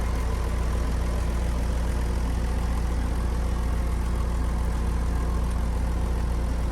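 A Komatsu WA470-6 wheel loader's six-cylinder turbo diesel engine runs steadily nearby, a constant low rumble with a heavy mechanical drone and no variation.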